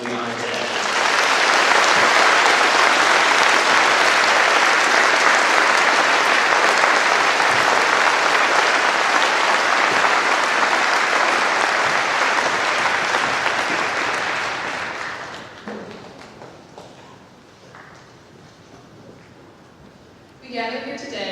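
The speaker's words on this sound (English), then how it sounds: "Please join me in a big round of applause for some of our most important citizens" An audience at a school Veterans Day assembly claps for veterans in a loud, dense round of applause that holds for about fifteen seconds, then thins out and fades. A brief burst of sound follows at the very end.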